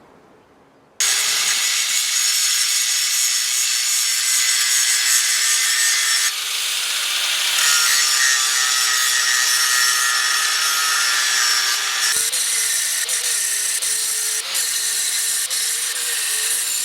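A flap disc grinds a metal part of a mobile workbench, a loud continuous abrasive whine starting abruptly after a brief moment of quiet and running steadily with slight changes in pitch and pressure.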